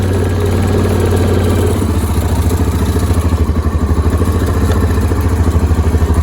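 Yamaha Grizzly 550 ATV engine idling steadily and then pulling off for a ride around a yard, its low, pulsing putter rising with throttle, close and loud throughout.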